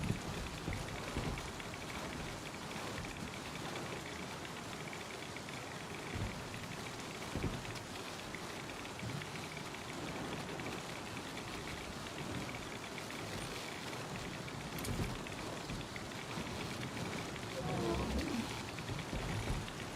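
Steady rain pours in the video game Star Citizen, a dense continuous hiss with occasional heavier drops and thumps, while a person talks over it.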